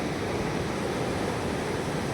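Floodwater on a swollen river after days of rain rushes and churns as waves, making a broad, even roar that stays steady with no voices.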